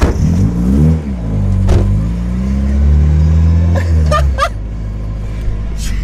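A car being driven in a remote, stranded setting, its engine revving up in rising, falling sweeps and accelerating close by, with a few sharp clattering knocks near the end.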